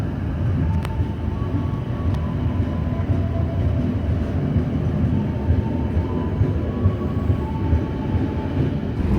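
A KA Malabar passenger train departing Kertosono station in Indonesia rumbles steadily, low and continuous, with faint metallic squeals and clicks as it rolls along, no voices.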